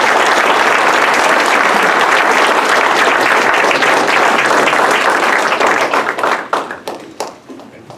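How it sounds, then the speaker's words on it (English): Applause from a town board meeting audience in Boston, New York, loud and dense clapping that carries steadily before thinning into scattered claps and fading toward the end. "let's give him another round of applause."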